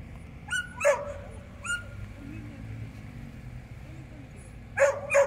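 A dog barks near a roadside on a mountain trek at Monte Terminillo, with a few sharp barks in short clusters separated by quieter gaps and faint background noise.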